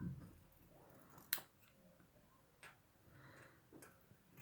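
Scissors slowly cutting slippery viscose fabric for şalvar trousers, a few soft, sparse snips with one sharper click near the start, faint and close in a quiet room with no speech.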